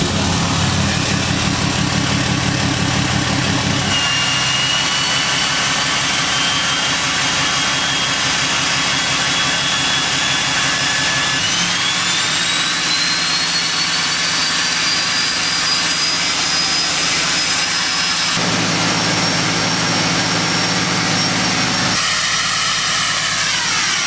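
A loud truck engine idles steadily with a whining, turbine-like hiss in the exhaust, the tone rising slightly partway through and holding throughout.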